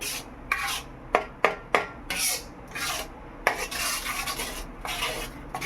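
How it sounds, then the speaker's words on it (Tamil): Jaggery being stirred and broken up in a pan for carrot malt, with scraping, rasping strokes of a utensil and several sharp clinks against the metal, close and steady with no voices. "இதை கிண்டிக்கிட்டே இருப்போம்"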